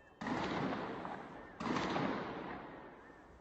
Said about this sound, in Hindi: इसमें देखिए जो दोनों तरफ से जो फायरिंग हो रही है, ये आपको सुनाई पड़